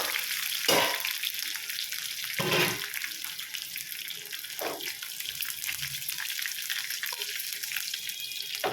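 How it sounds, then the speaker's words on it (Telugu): Hot tempering of cumin and curry leaves poured into cooked red lentil dal, a broad hissing sizzle with a few sharp bursts, fairly close and continuous, no voices. "తాలింపు పప్పులో పోసేసాం."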